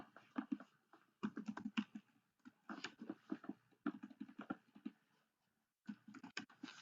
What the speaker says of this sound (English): Let me type in handover.